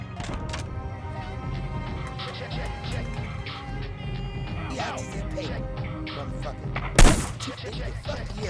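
A single sharp gunshot cracks out loud in Hitman: Blood Money Reprisal gameplay, standing out from steady game music and ambience while someone talks in Hindi.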